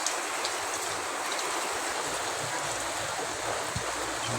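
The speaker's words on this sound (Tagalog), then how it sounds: "Lakas po ng ulan." Heavy rain pours in a steady, dense hiss, loud and close, with a continuous broadband wash and no pauses.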